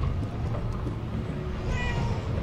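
A cat meows in the video game Murdered Soul Suspect, a few soft repeated calls heard alone over a steady low background hum.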